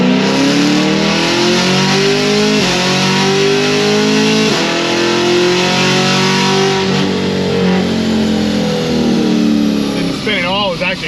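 A stage 3 Corvette C6 Z06 V8 accelerates hard in a full pull, loud and close, its rising engine note stepping through gear changes, while people talk over the roar.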